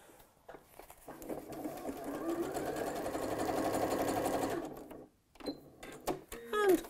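A sewing machine zigzag-stitches the shoulder seams of a scrub jacket in a steady whirring run of a few seconds, with brief starts and stops before and after it and a voice speaking quietly nearby.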